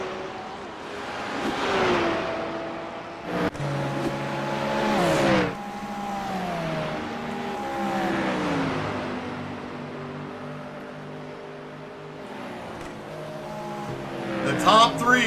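GT3 race cars in a racing video game at Mount Panorama, engines revving and shifting up the mountain climb with repeated rising pitch sweeps, a loud close car with others passing, under commentary.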